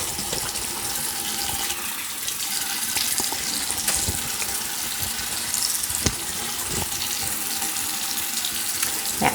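Tap water runs steadily into a sink while someone wets their face, a constant close splashing hiss with occasional louder splatters and no speech.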